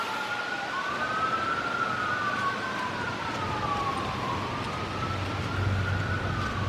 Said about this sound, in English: That's an ambulance. Yeah, that is an ambulance.